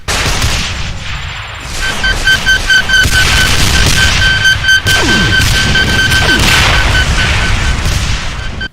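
A Revenant variant in a Doom mod unleashes a massive homing-rocket barrage, a loud, continuous onslaught of overlapping blasts and booms with whooshing streaks layered over a thick rumbling roar.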